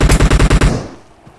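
A rapid burst of about seven AKM shots in a video game, loud and close, cutting off abruptly into a short fading echo.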